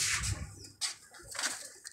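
Pigeons cooing and fluttering close by, with low burbling calls and a brief flap of wings amid busy bird noise.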